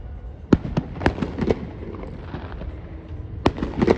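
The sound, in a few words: fireworks exploding at Asbury Park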